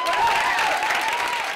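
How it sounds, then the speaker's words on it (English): Audience applause for the Gaithersburg Poms at a pom dance competition: steady, dense clapping from a crowd, loud and continuous throughout with no gaps. "Everybody clap your hands."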